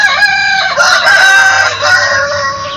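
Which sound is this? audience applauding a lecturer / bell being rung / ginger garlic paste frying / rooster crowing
rooster crowing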